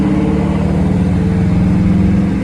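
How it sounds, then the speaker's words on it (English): A 5.7L Dodge Charger R/T V8 in track mode, driven in manual paddle-shift mode through city streets, rumbles with a steady, loud, deep engine drone heard from inside the car, no voices. "We're gonna use the manual mode, paddle shifters. Through the city, so I'll show you guys how that sounds real quick."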